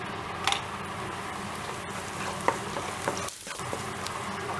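Sliced onion frying with chili powder, turmeric and salt for a spiced cassava dish, a steady soft sizzle with occasional stirring scrapes and light ticks from the pan, close and alone.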